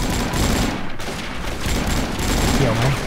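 Dense gunfire in the online shooter AvatarStar, rapid bursts of shots close and loud over continuous game noise, with a voice briefly audible.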